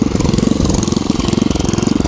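A Merry Tiller chain-drive garden tiller's engine runs steadily close by, its rapid, even chugging pulsing loudly with no one talking.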